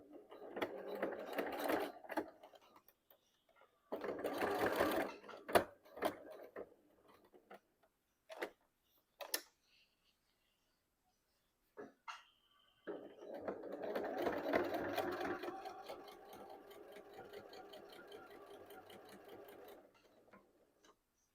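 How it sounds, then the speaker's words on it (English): Sewing machine stitching the straps of a drawstring bag with a narrow 1/8-inch seam, running in three bursts: two short runs, a few brief clicks, then a longer steady whirring stretch before stopping. "We'll sew this together with a 1/8 of an inch seam."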